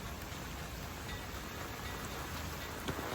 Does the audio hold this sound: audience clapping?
no